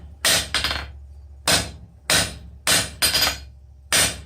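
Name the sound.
blacksmith hammering bar to draw down one-sided taper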